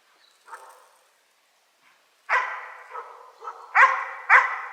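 A search and rescue training dog barks several times, sharp and close, with a short yip early on and a run of louder barks toward the end.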